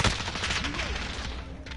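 Gunfire in a video game breaks out in a loud, dense burst at the start, then trails off into scattered rattling shots and game noise over under two seconds.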